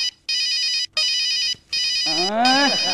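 An electronic phone ringtone rings in repeated bursts with short gaps, loud and close, and a voice starts talking over the last ring.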